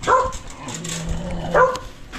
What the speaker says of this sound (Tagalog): hawakan mo yung aso